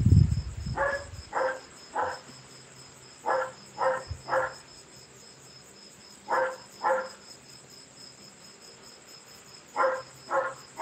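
An insect, cicada or cricket, chirps in short rhythmic bursts grouped in twos and threes, fairly faint against a quiet background with no talking, after a brief thump at the start.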